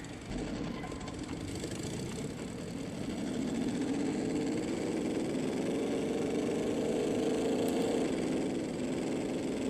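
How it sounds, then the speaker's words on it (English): A racing car engine in the driving game Assetto Corsa, on the Brands Hatch Indy circuit, drones steadily at high revs for the whole stretch, a continuous mid-pitched buzz with no talk over it. "When the engine gets close to top end, it starts taking damage."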